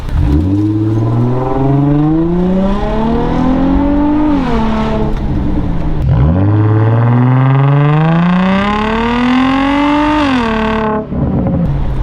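An Infiniti G35 with a Vibrant resonator and muffler delete accelerates hard twice, its loud, close exhaust note climbing steadily in pitch through each pull before dropping back, ending with a brief stutter.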